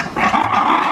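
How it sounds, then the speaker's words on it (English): A white ruffed lemur gives a loud, harsh, growling bark-like call, one sustained, rough burst close by. "The ruff lemurs, unlike our ring-tailed lemurs, are known for their loud, barking-like vocalization."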